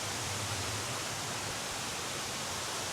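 Tat Sae waterfall pours as a steady, even roar of rushing water, fairly soft and unchanging throughout, with no other sounds standing out.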